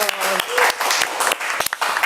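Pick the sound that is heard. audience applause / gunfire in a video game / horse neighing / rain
audience applause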